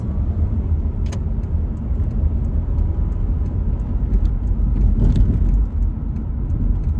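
A car's interior while driving on the road, with a constant low engine and tyre rumble and road noise, a few faint small rattles, and no talking.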